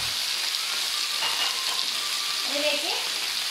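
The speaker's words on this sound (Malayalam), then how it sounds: "സവോള തക്കാളി എല്ലാം കൂടി ഒന്ന് വഴറ്റി എടുക്കാം." Onions, tomatoes and green chillies sauté in a pan with a continuous, even sizzle close by, a faint voice briefly surfacing near the end.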